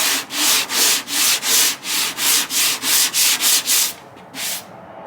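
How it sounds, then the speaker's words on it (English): A sanding block with 180 grit paper is worked by hand over body filler on car bodywork, giving about a dozen steady rhythmic rasping strokes, close and loud, that slow and fade near the end. "Okay, so we got our 180 grit on our block. I'm gonna just do a few swipes and I'm gonna show y'all."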